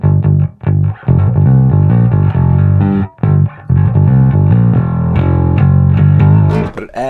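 Distorted electric bass played through an EBS Billy Sheehan Signature Drive pedal, loud and close, with sustained gritty, harmonic-rich notes separated by a few brief pauses and no voices.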